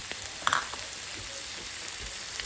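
Green onion frying in a pan for a pizza topping, a soft, steady sizzle with a few small pops and crackles, close and fairly quiet.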